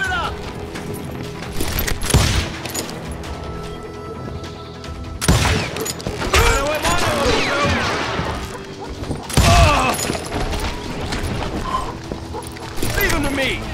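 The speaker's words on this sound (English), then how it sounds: "They're shooting in the street!" Western street gunfight in Call of Juarez: Gunslinger, several sharp gunshot bursts and crashes scattered across a noisy scene, with voices shouting between them.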